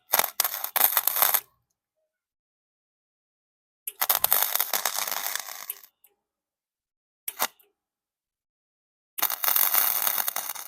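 A welder on its lowest setting works on a Hyundai Getz exhaust pipe in short crackling bursts separated by silences: four spurts of harsh, sputtering buzz, some over a second long, one very brief, with no talking.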